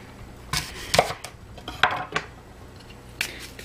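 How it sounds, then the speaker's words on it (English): Knife chopping apples into small pieces on a cutting board, a handful of sharp, irregular close-up thunks spread across a few seconds with quiet pauses between strokes. "So I'm just going to chop them in little pieces"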